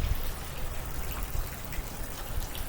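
Water rushes steadily through a canal lock, a broad, continuous wash of flowing water that stays loud and unbroken throughout.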